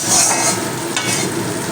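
Medium-sized onion frying in hot oil while being stirred, a loud continuous sizzle with scraping and stirring noises close up, no voices.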